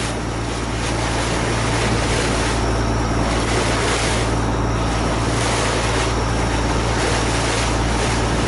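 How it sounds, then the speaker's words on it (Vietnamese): A small motorboat engine drones loudly and steadily on a river in the Mekong Delta region, close and continuous, with wind and water rush layered over the constant hum. "Thì có một chiếc vỏ chạy trước mình các bạn."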